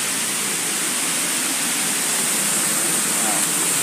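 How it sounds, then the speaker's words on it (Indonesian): A small waterfall in a tropical rainforest gives a steady, loud broadband rush of falling water, unbroken and even from start to finish. "Ini air terjun di sini, guys."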